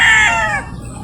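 A gamefowl rooster at a game farm in Batangas crows once, loud and close, the call trailing off after about half a second into quiet.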